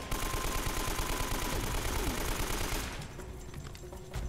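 Sustained heavy gunfire from the Uncharted video game, a dense, continuous rattle of shots that drops to a thinner, quieter exchange near the end, with no talking.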